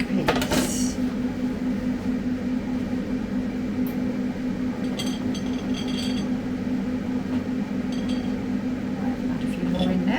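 Chickpeas tipped into a Ninja Dual air fryer basket land in a sharp rattling clatter at the start, followed by scattered light clinks over a steady, humming drone.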